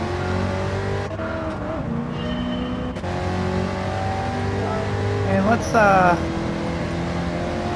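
A race car engine in Gran Turismo 7, heard from the in-car view during a replay, drones steadily with shifting harmonic tones and climbs in a sharp rev near the end, while someone talks over it.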